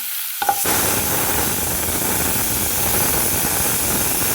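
Steady sizzling of spices and coriander powder in a hot pan with stirring scrapes, loud and continuous after a brief quiet start; no voices.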